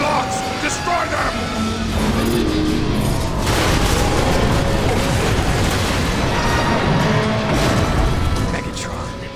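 Loud gunfire and booming explosions against emergency locks in Transformers: War for Cybertron, a dense, continuous barrage of blasts and impacts, with shouted voices under the din.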